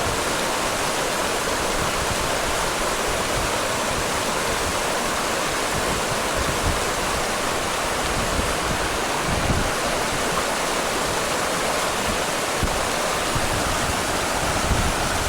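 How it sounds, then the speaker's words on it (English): A mountain stream rushing at a hiking trail crossing, a loud, steady, close roar of flowing water that carries on unbroken with no voices. "Coming down to another stream crossing."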